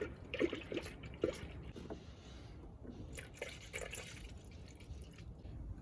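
Coolant gurgles and drips with irregular bubbling pops as trapped air escapes early on, then a steady low trickle of pouring continues, fairly quiet and close.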